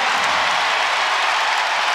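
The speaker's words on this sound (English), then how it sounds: "And the crowd goes crazy." A crowd roars at an NCAA tournament women's basketball game between Kansas State and NC State after a made basket and foul, a dense, loud, sustained arena cheer.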